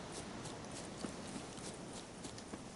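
Horse hooves clip-clopping in The Witcher 3: Wild Hunt, a steady walking rhythm of faint, regular hoof strikes over a continuous outdoor ambience, with no talking.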